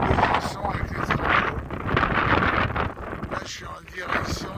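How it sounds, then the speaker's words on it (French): Strong wind roars and buffets the microphone while cycling outdoors, a continuous loud gusting rush that swells and dips throughout. "le vent il me pousse, j'ai même pas pédalé."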